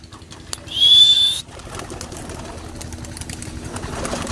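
Young racing pigeon released outdoors, a sharp burst of wing flapping about a second long near the start, then a softer ongoing rustle and background noise.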